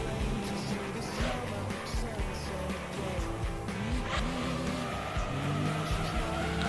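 Car in Gran Turismo 3 flicked sideways into a final corner, its tires squealing in wavering, sliding tones over a steady engine drone, continuous and fairly close throughout.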